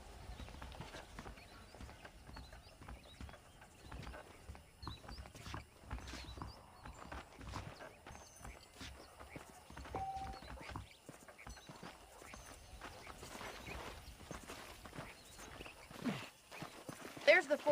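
Horse hooves clip-clop steadily on the ground while riding in the Western video game Red Dead Redemption, moderately loud and continuous, with a voice talking over the hoofbeats throughout.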